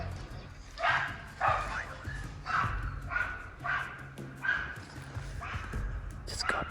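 Hunting dogs bark and yip repeatedly in quick, uneven bursts while chasing a wild boar, a little distant, with a noisy outdoor background.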